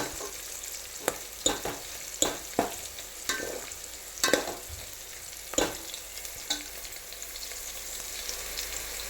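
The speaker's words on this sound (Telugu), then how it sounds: "చూడండి, మన ఆనియన్, పచ్చిమిర్చి ఎలా వేగిపోయిందో చూసారా" Onion and green chili frying in a pan for a mutton curry, a continuous sizzle broken by sharp scraping strokes of a spatula at irregular intervals, close and clear with no speech.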